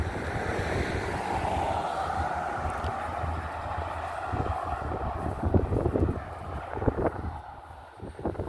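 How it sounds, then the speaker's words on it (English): Wind buffets an outdoor microphone beside an 1870s village home in Ontario, a steady low rumble with gusty bursts throughout and no talking. "apologize for any wind noise."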